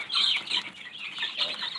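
Baby chicks in a brooder peep and cheep in a dense, continuous chorus of high, overlapping chirps, close and fairly loud, with no voices.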